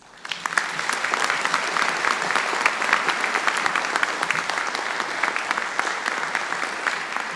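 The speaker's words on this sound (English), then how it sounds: "Please join me in welcoming to the podium our graduate commencement speaker, Marcy Mills." Audience applause at a university graduate commencement welcoming the speaker to the podium: dense, steady clapping from a large crowd, starting abruptly and holding at an even level throughout, with no talking over it.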